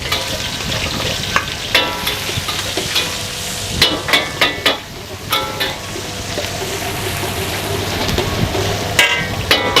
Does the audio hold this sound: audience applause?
no